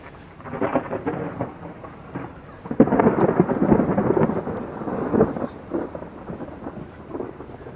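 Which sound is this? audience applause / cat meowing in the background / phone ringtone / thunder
thunder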